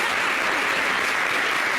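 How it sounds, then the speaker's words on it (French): A brief burst of dense audience applause for a Miss Monde winner on a talk show, loud and continuous throughout. "Applaudissez pour Olivia"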